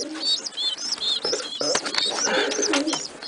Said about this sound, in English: here's a little 1 day old baby pigeon